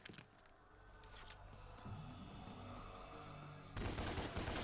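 Gunfire from a Devil May Cry action game, a dense rattle of rapid shots running steadily throughout and growing louder and denser near the end, with no talk.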